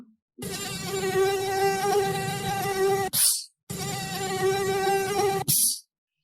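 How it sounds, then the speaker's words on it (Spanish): Mosquito buzzing in a children's fable about a mosquito attacking a lion, two loud sustained whining buzzes of about three seconds each, separated by a short silence, with no talk. "En ese momento, el mosquito atacó al león, picándole en la nariz, las orejas y la cola."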